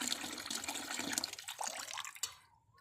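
Water splashing and running from a tap on a rooftop in the evening, close and fairly quiet, with a few drips, then cutting off into silence at the end.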